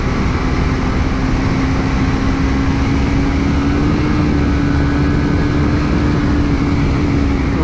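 TVS Apache RR310 motorcycle carried at speed through a road corner, its engine a steady loud drone with a held tone mixed with heavy wind rush, continuous throughout with no talk.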